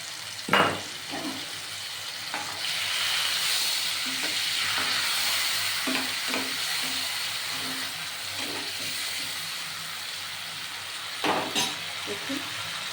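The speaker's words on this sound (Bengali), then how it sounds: "মশলাটা একটু ভাজা ভাজা হবে" Spice paste fries in a pan for katla fish curry with a continuous, fairly loud sizzle, and occasional clinks of a utensil stir through it.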